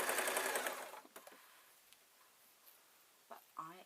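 Sewing machine running a straight line of stitching through fleece fabric, a dense whirring burst for about a second, then fainter handling noises and a few soft clicks close by.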